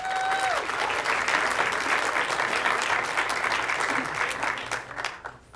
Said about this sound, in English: Let's just all give ourselves another round of applause.